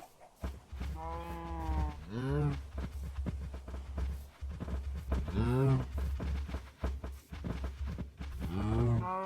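Cows in Minecraft let out several long, drawn-out moos spread across the scene, loud and close, over a steady low game-music hum.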